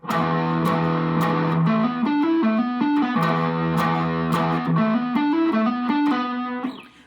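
Distorted electric guitar playing a rock or metal riff with moderate gain, steady sustained chords shifting through a repeating pattern with sharp pick attacks, loud and close, no voices.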